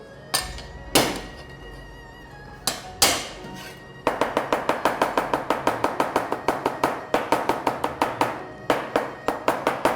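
Garlic and onion crushed with a knife on a cutting board: a few heavy thumps first, then a fast run of sharp, evenly spaced taps and smacks, close and loud, with no talking.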